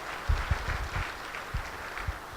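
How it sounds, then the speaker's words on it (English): Keynote audience applause at the RTA Connect 2018 conference: steady crowd clapping of moderate loudness with some louder individual claps, heard throughout. "Please give Josh a big round of applause."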